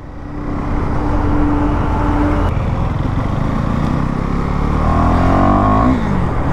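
A motorcycle engine, apparently a Yamaha R7, starts and revs hard, loud and close, with a steady roar that climbs in pitch toward the end.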